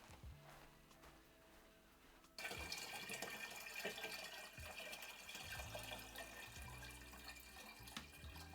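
A gallon of water pours into a terrarium, starting as a quiet trickle and then turning abruptly into a steady, splashing stream that runs to the end.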